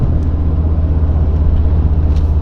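A 4WD Ford Focus ST with the wheel held straight while it pulls to the left, driving around a curve. Heard from inside as a steady, loud low road rumble and engine drone with no clear changes.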